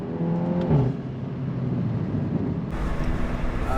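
A modified Mk7 VW GTI with a DSG gearbox revs loudly, its engine note climbing then giving way to a rough, gravelly exhaust roar with wind rush, heard from inside or close by.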